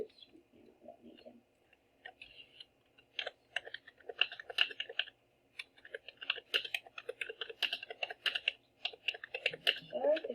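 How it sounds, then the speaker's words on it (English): Rapid clicking of a computer keyboard being typed on up close, irregular bursts that grow denser, with a brief voice at the start. "Sorry if the keyboard is really loud."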